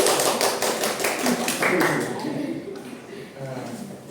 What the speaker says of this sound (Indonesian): Tepuk sebanyaknya.